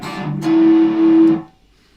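A Veritone circuit feeds a distortion effect, producing one sustained, buzzy, overdriven tone that holds steady for about a second before cutting off abruptly into near silence.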